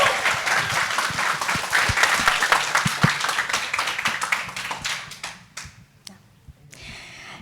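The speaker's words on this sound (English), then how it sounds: "Another round of applause," Audience at a film event applauds the project's director and producer, a loud sustained burst of clapping that thins into scattered individual claps and fades out toward the end.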